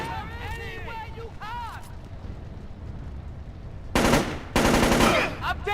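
Automatic gunfire in the stealth-action game Splinter Cell Chaos Theory: heavy bursts of shots near the end, loud and close, after a stretch of rumbling ambience with game voices and shouting.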